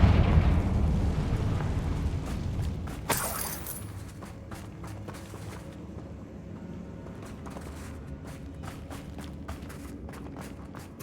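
A Confringo fire spell bursts in Hogwarts Legacy, opening with a loud rumbling blast that settles into a crackling, fiery tail over steady ambient noise, with scattered sharp pops following.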